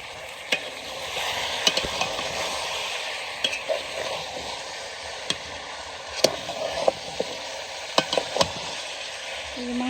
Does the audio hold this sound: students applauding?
no